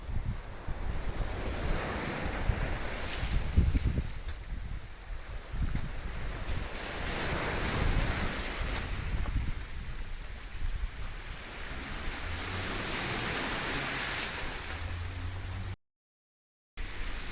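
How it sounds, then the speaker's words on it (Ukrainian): Sea waves wash onto a beach in Greece in a continuous roaring surf, with strong wind buffeting the microphone throughout and no talking. "Ми на морі."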